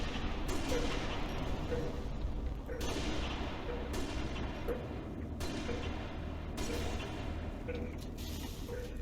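Gunfire in the video game Halo: Reach, several loud bursts of shots that cut in sharply and tail off, with game noise and faint voices underneath.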